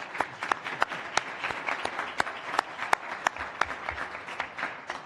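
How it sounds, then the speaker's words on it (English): Sparse, faint clapping from a small audience at a city council meeting, with individual claps irregular and distinct rather than a full ovation. "Isn't this where we applaud?"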